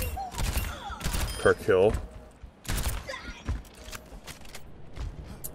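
Rapid bursts of Baptiste's primary fire in the Overwatch video game, shooting at his fastest rate as quick clustered volleys that trade off with a voice speaking over the action.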